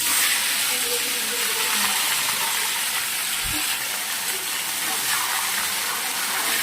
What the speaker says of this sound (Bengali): আমি একটু কাঁকড়াটা হালকা করে ভেজে নিচ্ছি যাতে স্মেলটা না থাকে